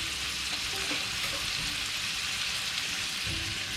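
Chana dal and bottle gourd sizzle steadily in hot oil in a pan, a close, even frying crackle with faint clinks as spices are added.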